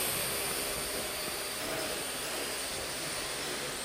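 A small quadcopter drone flies indoors, giving off a steady, high-pitched, hissing whir that stays even and loud throughout.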